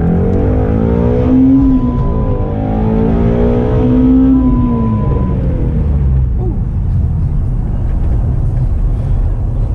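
A manual Ford Mustang GT350 accelerating, heard from inside the cabin: a loud, steady engine roar whose pitch sweeps upward through each gear, with brief dips at the shifts.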